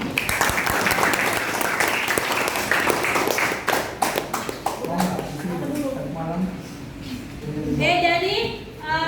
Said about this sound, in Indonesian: terima kasih, berikan aplaus